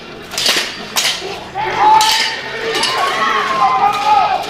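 Steel swords and armor clanging in full-contact medieval combat at a national tournament: sharp metallic clashes and ringing strikes near the start, then scraping and ringing tones over a crowd and talk.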